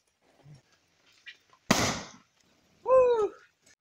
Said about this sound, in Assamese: আৰু এতিয়া মানে বোমা কেইটামান ফুটাই দিওঁ